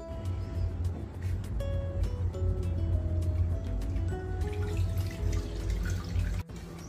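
Homemade gooseberry juice strained through a sieve into a mixer jar, pressed with a spoon: soft intermittent dripping and trickling with small clicks, faint and close, over a low steady background hum.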